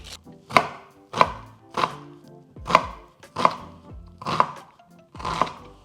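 A knife chops onions on a board in seven sharp, evenly spaced strokes about a second apart, close and clear with no talking.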